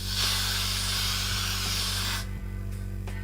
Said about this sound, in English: what I'm doing is just spray some Got To Be